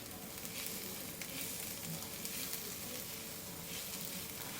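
Onions cook in a little oil with salt in a pan, producing a soft, steady sizzle heard up close and fairly quiet, with no voices.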